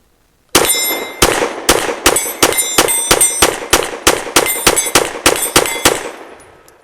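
A Fusion Firearms XF Pro pistol fires a rapid string of about fifteen loud, evenly spaced shots outdoors, each crack ringing off steel targets with a metallic clang, the last ring fading into silence.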